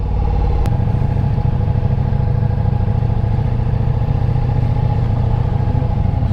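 Ducati Diavel V4 motorcycle being ridden, its engine a loud, steady, close rumble that stays even and smooth throughout with no gear changes or pauses.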